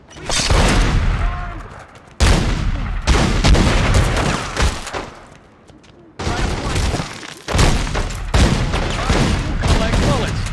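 Shotgun fire in the crime action game The Godfather 2: heavy, booming blasts in loud clusters with short quiet gaps, close and forceful, with no speech over them.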